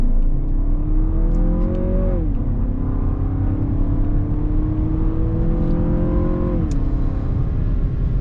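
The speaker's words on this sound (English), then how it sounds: "Let's see what the performance is like with the turbocharged 4-cylinder engine." A 2023 Lexus RX 350 with a turbocharged 4-cylinder engine accelerating on a highway: a loud, steady engine drone rises in pitch through the gears, dropping briefly at each shift, over constant road and wind roar and with no talk.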